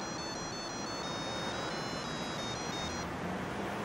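A mobile phone ringtone chirps in a steady repeating electronic pattern for about three seconds inside a home, fairly faint under room noise, then stops.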